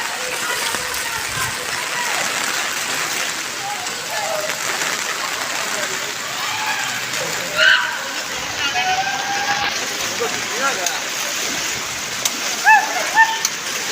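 Monsoon rainwater rushes steadily past the Ichhapurti Hanuman temple in Nalasopara, a continuous close wash of flowing, splashing water with a few brief louder splashes near the end.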